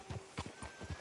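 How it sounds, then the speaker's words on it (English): Horse hooves clip-clop in a quick, steady rhythm of about four soft thuds in Red Dead Redemption 2, faint and unaccompanied by voices. "Can you grab Anders off your horse and carry him in for me?"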